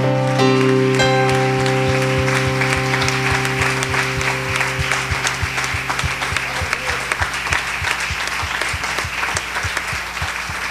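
Steady round of applause from an evangelical church congregation, dense clapping holding throughout while a sustained organ or keyboard chord rings underneath and fades.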